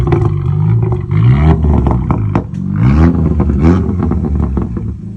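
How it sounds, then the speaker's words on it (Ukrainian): A loud car engine revs hard in repeated bursts, with sharp crackling pops from the exhaust between revs, close and continuous throughout. "Також тут зроблений кастомний вихлоп з попкорном."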